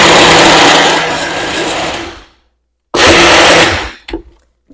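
A blender mixing pumpkin coffee creamer with sweetened condensed milk whirs loudly and steadily in two bursts, the first about two seconds long, then a brief silence and a second burst of a second and a half, ending with small clunks.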